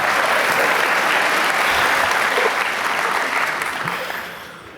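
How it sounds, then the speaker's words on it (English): A church audience at an evening event at Cornerstone Chapel breaks into loud, dense applause that holds steady before fading out over the last second. "Please clap."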